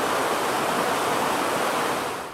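Cold, clear water rushing down a mountain stream in the Cascade foothills, a dense, loud, continuous roar of flowing water with no pauses or voices.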